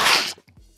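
A single sharp, close sneeze bursts out at the start, followed by a brief quiet moment and a faint trailing voice.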